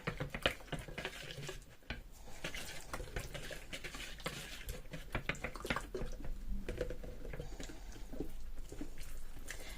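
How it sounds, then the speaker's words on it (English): A silicone whisk stirs Eco Pour mixture in a jug, a faint continuous patter of scraping and sloshing with small clinks, steady and close throughout. "Trying to keep stirring all the time."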